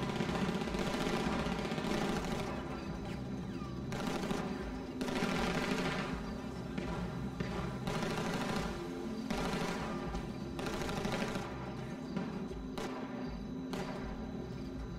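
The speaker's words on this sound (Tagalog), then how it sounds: "Medyo matagal-tagal tong putukan na to" In a GTA roleplay bank robbery, sustained gunfire rattles in repeated bursts across the whole stretch, dense and continuous with brief dips between volleys, loud against steady background noise.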